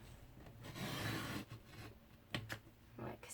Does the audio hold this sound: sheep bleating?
no